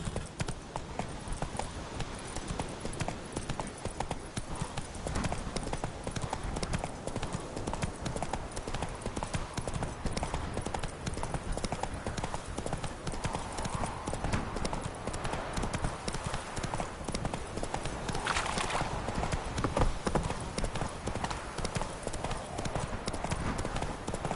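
Steady galloping hoofbeats of a horse in the video game The Witcher 3, a continuous rhythmic clatter running the whole time at a close, even level, with faint speech mixed in.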